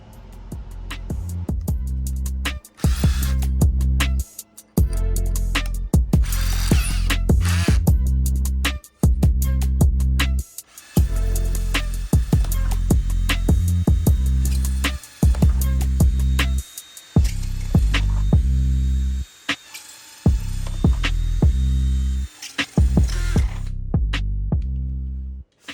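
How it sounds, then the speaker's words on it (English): A power drill bores ventilation holes around the top edge of a plastic worm bin, whirring in a long series of short bursts separated by brief pauses, close and fairly loud. "we'll drill holes right along the top here all the way around to make sure that our worms have plenty of ventilation"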